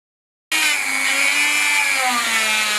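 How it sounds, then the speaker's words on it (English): Dremel rotary tool grinding on a pre-war 1939 Manx Norton motorcycle engine part, starting abruptly after a moment of silence into a loud, close, sustained high-pitched whine with slight pitch wavering. "is going around it with a Dremel"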